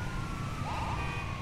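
An ambulance siren wails in GTA 5 Online, a steady tone over a loud continuous engine and road rumble, with a short rising sweep partway through.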